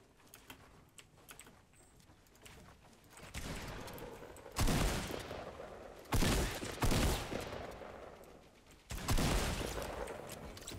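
An egg gun fires in the Fortnite video game: several loud, sharp bursts of popping shots, each cluster about a second long, stand out over a quieter, busy game background.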